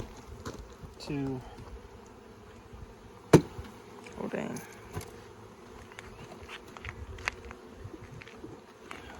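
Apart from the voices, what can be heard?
honey bees buzzing around hive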